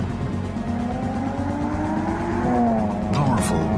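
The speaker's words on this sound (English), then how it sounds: "Introducing the new BMW 3 Series, our most advanced 3 yet." A BMW 3 Series sedan accelerates with a steady rising engine tone, then the tires squeal sharply near the end, all loud and close under a continuous background.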